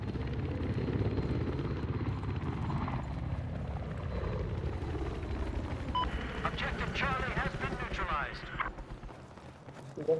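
A Viper attack helicopter in Battlefield 4 on PC whirs and thumps steadily through a busy battle, with voices talking over it and a burst of metallic chirps and clatter in the latter half.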